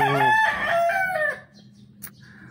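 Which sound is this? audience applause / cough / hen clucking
hen clucking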